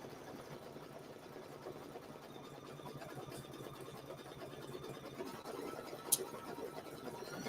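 An embroidery machine stitches out a name tag with a steady, fast, low mechanical whirr and needle chatter at close range. A single faint click sounds late in the run.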